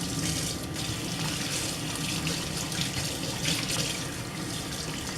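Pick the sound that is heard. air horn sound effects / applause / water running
water running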